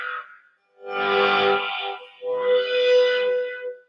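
Two sustained electric guitar phrases with a swept, vocal-like wah tone and distortion, played loud and close with a brief gap between them.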